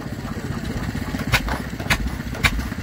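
Vintage stationary engine with a 3-inch centrifugal pump at a rally, running with a steady chugging beat and a few sharper firing knocks, close and fairly loud amid outdoor background noise.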